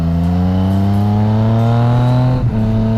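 A 2016 Yamaha MT-09 Tracer motorcycle's engine drones steadily while riding, holding a loud, close, even tone with a slight rise in pitch before a brief dip and recovery near the end; no voices.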